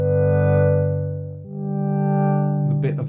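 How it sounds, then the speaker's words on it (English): Korg Polysix synthesizer played through a Moog Moogerfooger phaser, sustaining a rich, buzzing chord that shifts to a new chord halfway, with a slow sweeping phase movement, loud and alone. "I have my Polysix engaged now, running through the Mogerfoger phaser"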